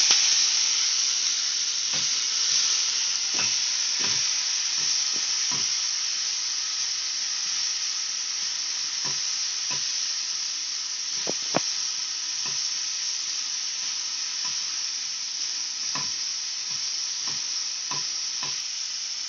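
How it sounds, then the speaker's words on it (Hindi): Chopped onion fries with okra for bhindi do pyaza over a medium-high flame, producing a steady hissing sizzle throughout. Regular soft taps and scrapes of a stirring spoon sound close by. "और 1 बड़ा प्याज हमने चॉप कर लिया था वो हम डाल देंगे और इसे अच्छे तरीके से भून लेंगे।"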